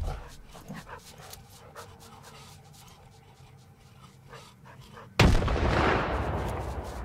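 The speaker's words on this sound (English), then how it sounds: "I'll throw one grenade at it." A grenade blast in the shooter game Stalker 2: Heart of Chornobyl bursts suddenly and loudly after quiet ambient game sounds, its rumbling roar trailing off over the final two seconds.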